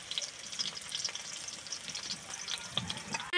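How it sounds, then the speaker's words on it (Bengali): Onions fry in a pan with a steady, close sizzle and scattered stirring scrapes, louder crackles rising near the end, no voices. "পেঁয়াজটা একটু ভাজা ভাজা হোক।"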